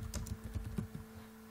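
Quick, quiet tapping on a computer keyboard, a short burst of a dozen or so keystrokes that trails off, with a faint steady hum behind.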